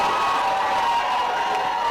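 A large crowd applauding and cheering steadily, a dense continuous wash of clapping with no pause.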